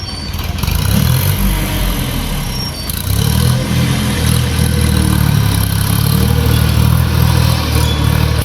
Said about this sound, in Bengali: আজকে দুপুরবেলা আমাদের বাড়ির সামনে এখন পাওয়ার টিলার আইছে আর কি